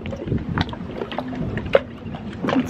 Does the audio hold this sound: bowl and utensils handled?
no